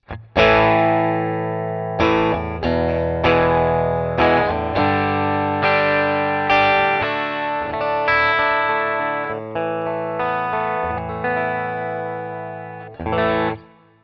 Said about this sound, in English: Let me add some overdrive to that sound.